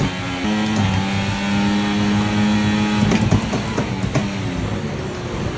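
High-revving Formula 1 car engine in the F1 24 racing game, a loud continuous whine with a steady pitch that breaks into a cluster of rapid, stuttering gear shifts and sharp clicks in the second half, no talking.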